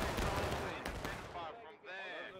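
Musket fire in the Civil War game War of Rights, a dense ragged burst of overlapping shots at close range as a line opens independent fire, followed by a short fading tail and shouting.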